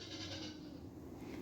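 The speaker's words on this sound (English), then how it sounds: "Yep, the goats think I need to feed them, so you can probably hear them in the background." Farm goats bleat faintly in the distance, a soft, wavering call that sits low under the background.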